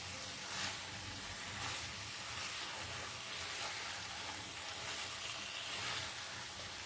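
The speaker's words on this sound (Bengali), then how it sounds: "মিক্স করে নিচ্ছি।" Mixed vegetables and paneer being stirred in a frying pan, a soft, even sizzling hiss that runs steadily with slight swells and no talking.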